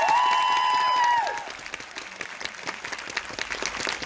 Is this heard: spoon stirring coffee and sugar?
no